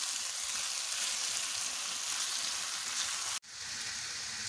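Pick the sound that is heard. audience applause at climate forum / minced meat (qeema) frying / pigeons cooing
minced meat (qeema) frying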